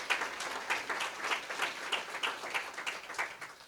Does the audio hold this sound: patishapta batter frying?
no